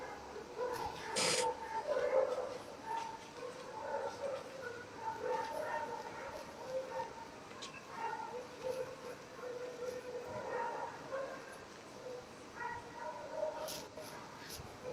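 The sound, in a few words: dogs barking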